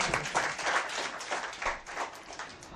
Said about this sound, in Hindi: तालियों से इस्तकबाल कीजिए